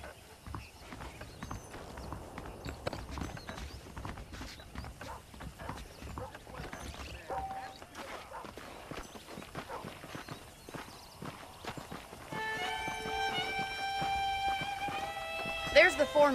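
Horse hooves clip-clop at a steady walking pace in the Red Dead Redemption video game on Xbox One X, running throughout under voices, with a musical tone rising toward the end.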